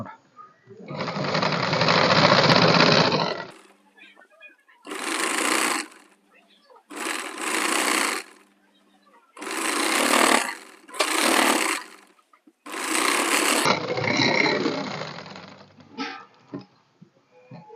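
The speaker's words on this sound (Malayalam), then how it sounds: "സൈഡ് അടിച്ചതിന് ശേഷം നമ്മളിങ്ങനെ തിരിച്ചു വെച്ചിട്ട് ഇതിൻ്റെ ഈ എഡ്ജിൽ കൂടെ അങ്ങനെ അടിക്കണം" Loud sewing machine runs stitch along the edge of a shirt, several bursts of one to three seconds each with short pauses between, close by with no voice over them.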